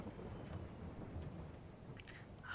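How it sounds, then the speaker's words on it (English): Rain and thunder in the Farming Simulator 22 video game, on The Valley The Old Farm map: faint, steady rainfall hiss under a low rumbling of thunder, with no voices. "Thankfully the rain's not lasting for long by the looks of it."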